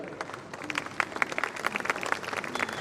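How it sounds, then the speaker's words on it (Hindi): An audience at a school annual function applauds, giving a steady, dense patter of many hands clapping at a moderate distance, fairly quiet and continuous with no talking over it. "शानदार तालियां"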